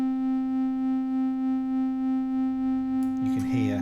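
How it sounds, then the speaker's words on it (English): A steady, buzzy triangle-wave tone from an Arturia Yamaha CS-80V software synthesizer holds, then near the end turns into a metallic, warbling sound as its ring modulator is brought in. "Now bring the ring mod in."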